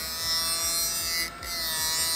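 A Scotch-Brite wheel deburrs the edges of laser-cut aluminum parts with a steady, high, abrasive whir. It is close and continuous, with a brief dip partway through as the part shifts against the wheel.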